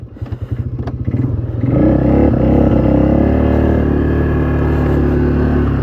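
A Polaris Magnum 330 ATV engine runs steadily, starting with a lumpy low idle putter and then settling into a louder, even, sustained drone with no talk.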